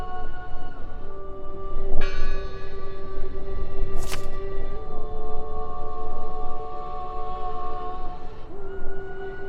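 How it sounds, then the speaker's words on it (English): Church bell tolling in the video game Draugen: sustained metallic ringing tones hang over a rough, noisy ambient bed, with a sharp clang near the start and a brief bright burst midway. "Listen! The bell! They're still in there!"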